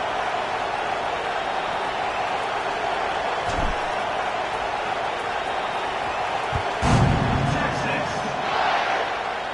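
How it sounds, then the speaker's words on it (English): A football stadium crowd before a kickoff in a game against Arkansas keeps up a steady, loud roar that swells briefly near the end. "this crowd is feeling themselves after that last drive"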